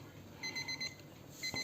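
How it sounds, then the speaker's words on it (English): A Seiko alarm clock rings in short repeated electronic beep bursts, four quick pulses then a pause before another pair begins, close and clear against a quiet room. "So I'm just going to turn off the alarm."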